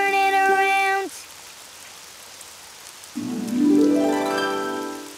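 Steady rain patters outside beneath a brief sung tone and a rising synth sweep.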